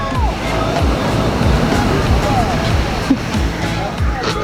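Ocean waves washing onto a beach, a steady close surf rush running throughout with people talking and chatter mixed in.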